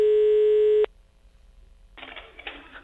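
A telephone line gives one steady electronic tone for nearly a second during a prank call, then cuts to near silence before faint rustling.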